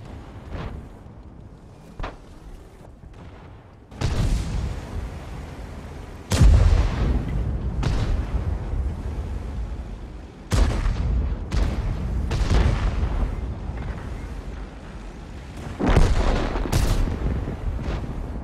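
Several heavy tank cannon booms in a video game ring out at irregular intervals, each a sharp blast with a rumbling tail, over a continuous low engine drone.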